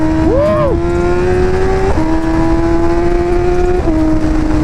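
A BMW M1000RR superbike with a flashed ECU pulls hard nearby, its loud, steady engine drone broken by crisp quick-shifter upshifts about every two seconds as the pitch drops and climbs again.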